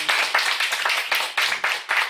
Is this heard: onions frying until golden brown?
no